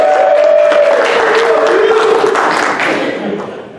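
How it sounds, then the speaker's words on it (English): Audience applause at a May 2023 awards and hall of fame conference, a modest wash of clapping with a few cheers that fades toward the end, with a voice heard over it. "that was a little lukewarm with the applause there"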